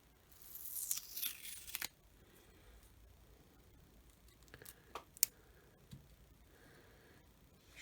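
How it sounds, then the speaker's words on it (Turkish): Paper label being peeled and torn off an HP 652 ink cartridge for a DeskJet 1115 refill, with a burst of close, crackly tearing at the start, then scattered small ticks and scrapes. "Siz de aynı şekilde yaparsanız daha rahat bir şekilde etiket çıkartabilirsiniz."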